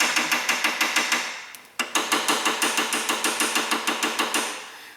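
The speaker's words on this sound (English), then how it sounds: "I got a little hammer." A small hammer taps metal on a Chevy truck in a quick, steady rhythm, bright clinking strikes repeating with a brief pause midway before continuing.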